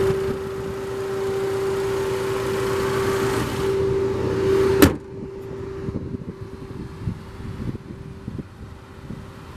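A 2016 Ford Fiesta ST's 1.6-liter turbo four-cylinder idles steadily with a constant hum, then a sharp click and the drone drops away into quieter rumbling.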